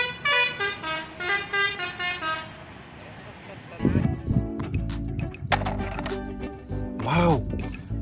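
A toy yellow school bus honks its horn in a quick run of short, bright toots, followed by clattering handling noises and a voice speaking close by.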